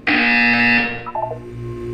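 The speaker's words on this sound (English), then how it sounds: "You will hear a buzzer." A loud, harsh electronic buzzer from the video game Portal 2 blares for about a second, then cuts off into a low hum and faint mechanical noises.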